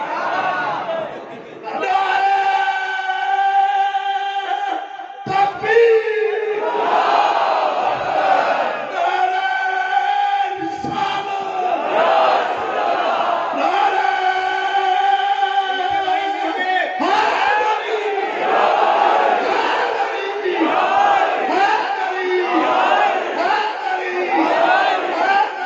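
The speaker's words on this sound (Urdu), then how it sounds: "جتنی زور سے انہوں نے پڑھا ہے اس سے زیادہ زور سے اپنے نعرے مار رہے ہیں" A crowd at a Shaban religious gathering at an imambargah loudly chants religious slogans in unison, voices swelling in repeated rhythmic bursts, with a lead voice and shouted responses throughout.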